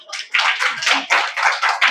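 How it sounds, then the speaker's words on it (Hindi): An audience claps in steady, rhythmic bursts at a spiritual talk on healthy, happy living, the hand claps close and clear with no voices over them. "ताली बजाओ।"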